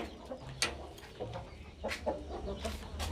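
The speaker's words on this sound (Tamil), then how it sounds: "ஒரு வெள்ளை கலர் சேவல் இருக்குது, பிளாக் கலர் ஃபீமேல் இருக்குது" A white rooster and a black hen in a farm pen give short, soft clucks and scattered calls, several separate bursts over a quiet background.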